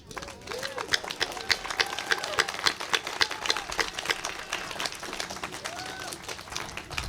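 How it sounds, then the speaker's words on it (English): Crowd applause at an outdoor airport protest in Santa Monica, many hands clapping in a lively, uneven patter at moderate distance, with cheering voices scattered through it. "I would especially like to give a huge round of applause again to Marty and Joan"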